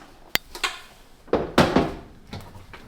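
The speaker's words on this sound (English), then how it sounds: "I'm gonna take this whole drawer out." A refrigerator drawer is pulled out, starting with a sharp click and then a few scraping slides and thunks of plastic. The sounds are close and moderately quiet, with no speech.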